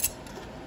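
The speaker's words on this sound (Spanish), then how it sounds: "Las tijeras de pollo." Poultry shears make a single quick, sharp metallic snip while opening a toy package, followed by quiet room tone.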